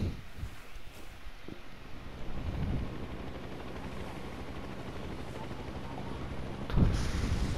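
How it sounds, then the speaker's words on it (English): Helicopter being fought in a video game, a steady rotor rumble and wash that holds for several seconds at moderate loudness, with a sharper burst near the end that could be gunfire or an impact. "I just destroyed a fucking helicopter"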